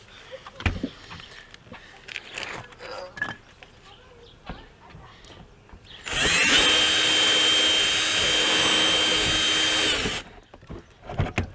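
Power drill enlarging a hole, improvised without a larger bit: a loud continuous whir lasting about four seconds midway, with speech and clattering handling sounds before and after.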